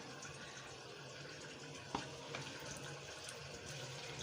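Fish is washed under a running kitchen tap, a faint, steady stream of water splashing into a sink with one brief clatter midway.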